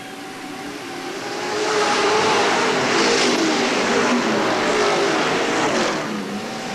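Sportsman race cars roar around the oval at Hales Corners Speedway, a steady loud engine drone that swells and holds as the pack passes close, with no talk over it.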